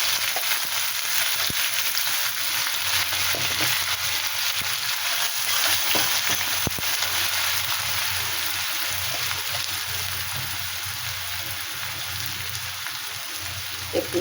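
Cumin and onion frying in a pan for a prawn and elephant foot yam dish, a constant hissing sizzle like rain on a surface, with occasional soft clicks.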